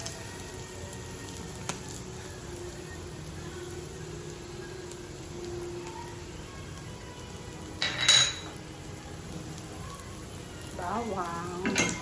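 Chopped garlic fries in hot oil in a pan, giving a steady low sizzle throughout, broken by a brief clink of a utensil against metal and some faint stirring scrapes near the end.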